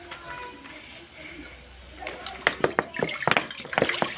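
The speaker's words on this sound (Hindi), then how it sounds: "ये देखो पानी छोड़ा जा रहा है।" Water splashes and patters into a pot of dal, growing louder and busier toward the end, with faint metallic clinks nearby.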